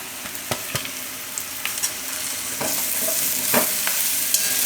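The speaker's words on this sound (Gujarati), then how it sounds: "અને મિક્સ કરી લઈશું હવે આમાં નાખી દઈએ આપણે આ મૂળાના પાન" Radish leaves tossed into a pan of carrot, radish and potato shaak, fried and stirred with a spoon; steady sizzle broadens midway, with scattered scraping clicks and no talking.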